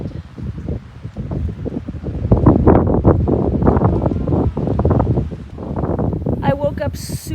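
Strong gusts buffet the microphone on a homestead, rumbling loud and uneven, while someone talks over the wind.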